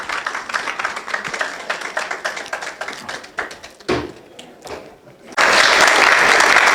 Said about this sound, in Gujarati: તાળીઓ પાડીને એમનું સ્વાગત કરો.